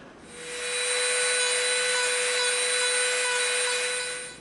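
A Dremel rotary tool whirs steadily for about four seconds while cleaning up the edge of cut EVA foam, with a high, even motor whine that starts and stops cleanly, close and loud with no talking.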